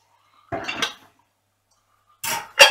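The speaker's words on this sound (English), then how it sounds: "I'm gonna get some bowls" Ceramic bowls for curry ingredients clatter and clink together in two brief bursts, separated by a short pause, close by.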